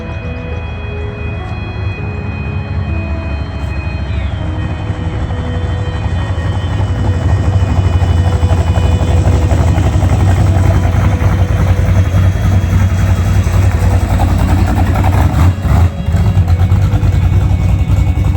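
An old truck, back on the road for the first time in 30 years, drives along with a loud, steady engine drone close by that builds slightly and holds for the whole stretch, with no talking.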